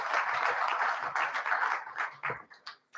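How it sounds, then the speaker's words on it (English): Applause from a conference audience after a sponsor presentation is introduced, moderately distant clapping that holds steady for about two seconds and then breaks into scattered fading claps. "A round of applause, please."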